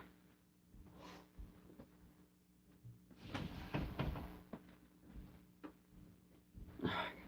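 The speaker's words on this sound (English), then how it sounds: "I gotta open this door a little bit." Indoor door eased partly open: a soft click and muffled knock near the start, a louder cluster of latch rattles and creaks midway, and a final brief scrape, all over a low steady room hum with no talking.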